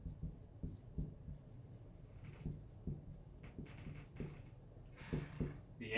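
Chalk or marker strokes on a board while working out a calculus integration problem, a quiet irregular series of short scratching and tapping sounds close by, with no talking.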